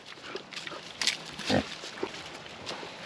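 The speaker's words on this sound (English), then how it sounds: "So he's a good-sized pig." A good-sized, affectionate farm pig grunts and snuffles close by in short bursts, with a louder grunt midway, amid faint background noise.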